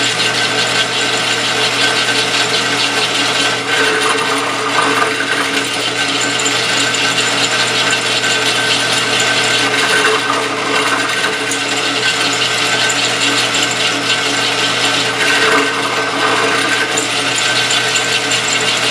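A power drill with a somewhat dull bit bores a depth-marked hole while making a hand-piece for a homemade hand engraving machine, giving a loud, continuous whirring grind with a steady motor tone and slight variations in pitch.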